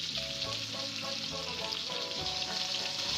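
Honey garlic chicken fries in a pan with a steady, close sizzle and crackle of hot oil running throughout, with faint clinks from the pan.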